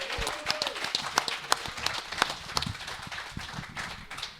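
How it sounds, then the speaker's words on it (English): Audience applause at a film festival roundtable, a steady patter of clapping hands with sharp individual claps standing out, moderately loud and continuous throughout. "Let's give a round of applause just for Wildwood"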